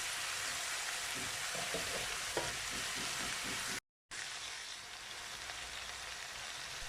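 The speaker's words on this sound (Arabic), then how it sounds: "الفراخ اتحمرت وخدت لون من الجنبين" Chicken pieces fry in a tray for a home-style chicken and potato bake, giving a constant dense sizzle with a few faint clinks and stirring sounds, briefly cut by a short gap of silence.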